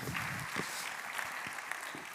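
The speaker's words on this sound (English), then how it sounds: "give yourselves a very big round of applause, everyone" Faint, distant applause from an audience at a talk on climate justice in The Hague, a soft wash of clapping with a few sharper claps poking through.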